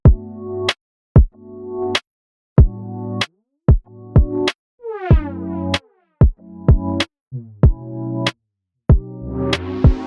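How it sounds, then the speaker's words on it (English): Beatboxed drum pattern, converted to MIDI drums with a Dubler 2: sharp kick and snare hits in a steady rhythm with occasional scratchy fills, loud and close, no talking. "I can literally start to record drums with my mouth."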